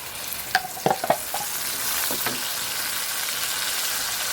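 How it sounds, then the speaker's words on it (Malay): Spice paste of garlic, ginger and shallots sautéing in plenty of oil, with a steady frying hiss throughout and a few clattering stirs of a utensil early on. "Jom kita tumis rempah sup kita"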